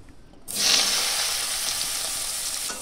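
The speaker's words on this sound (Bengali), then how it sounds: "পনির ভাজা তেলেতেই আমি ফুলকপি আর ছোট ছোট করে যে আলু হালকা করে সেদ্ধ করে রেখেছিলাম সেগুলো এখন ভেজে নেব" Cauliflower and small parboiled potato pieces hit hot oil left from frying paneer, bursting into a loud, close, sustained sizzle after a quieter start.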